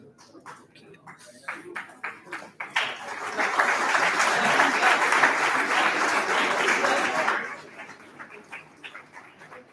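Audience applause at a university anniversary event, rising after a few scattered claps into a sustained crowd burst of several seconds, then fading out, with a voice speaking around the claps at the start.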